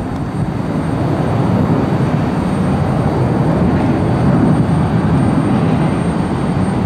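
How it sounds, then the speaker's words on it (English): A Delta Airbus A321 jet airliner roars past nearby at Cleveland Hopkins Airport, a loud, steady, broad engine rumble that holds strong and unbroken throughout, with no voices. "Delta 2290. Airbus A321 heading to the mega hub that is Atlanta's Hartsfield-Jackson International, ATL."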